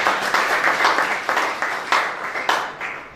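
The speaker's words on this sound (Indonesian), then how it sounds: "Yang setuju tepuk tangan bagi Allah." Church congregation claps hands in unison during an Indonesian sermon, a roughly even rhythm of about six or seven collective claps that fade slightly toward the end, with a few scattered extra claps.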